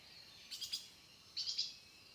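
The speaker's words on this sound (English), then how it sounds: "The bird sounds that you hear are not made by these birds." Small birds chirp in two quick clusters of three or four high, thin notes each, separated by a short pause, faint and distant against a quiet background.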